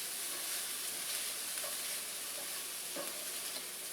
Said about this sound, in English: the garlic's all sweet, the onion's all sweet, everything's really caramelizing